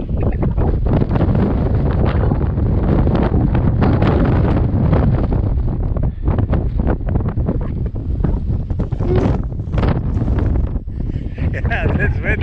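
Strong wind buffets the microphone on an Appalachian Trail mountain section near Saddleback, a loud continuous roar with gusting rumbles, and a voice is briefly heard under it.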